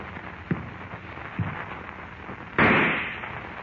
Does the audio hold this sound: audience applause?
no